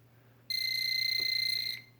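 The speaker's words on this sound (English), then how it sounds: "This is where my fire alarm goes." A home fire alarm sounds a loud, steady high-pitched electronic tone that starts abruptly, holds for over a second with a slight pulsing, and cuts off, over a low background hum.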